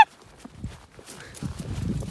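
A horse runs loose in a ranch pasture, its hooves thudding in an irregular clip-clop rhythm at moderate distance, growing steadier and louder toward the end with light wind and a faint voice behind.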